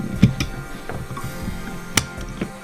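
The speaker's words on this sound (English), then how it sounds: "we're going to take a punch and push down here on the front of the disassembly of the bolt release" A punch pressed down on the bolt release of a CZ Scorpion bullpup kit gives small, close metallic clicks and scrapes, with one sharper snap partway through.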